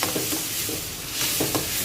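Crumbled millet flatbread stir-fried in a pan with onion, ginger, garlic and chilli paste: a loud, steady sizzle with scraping stirring strokes close up and no voices.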